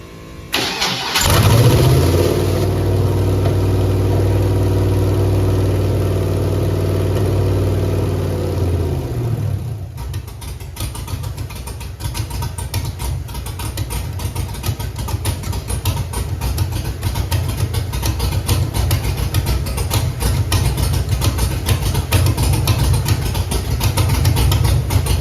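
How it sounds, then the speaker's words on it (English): A car engine runs with its coil wires unplugged and cylinders dead: a start-up, a loud uneven idle for several seconds, then a rougher, choppier running note continuing steadily to the end, with no talk. "I'm gonna let it run, unplug the coil wires, and see if there's a tone difference in the engine"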